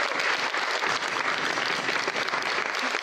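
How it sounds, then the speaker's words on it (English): Audience at wedding speeches applauds steadily for three seconds, a dense even wash of clapping from a sizeable crowd, moderately distant and without talk. "give a round of applause to these guys, but you've kind of done it"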